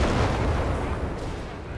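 Heavy, rumbling gunfire from a Grant tank in the video game Company of Heroes 3 blends into a dense, continuous wall of battle noise, loud and sustained.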